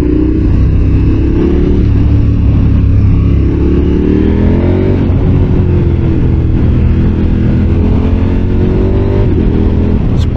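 A 2023 KTM 1290 Super Adventure S motorcycle accelerates hard with quick-shifter gear changes, its engine roaring loud and steady with rising pitch sweeps throughout, heard close from the rider's position.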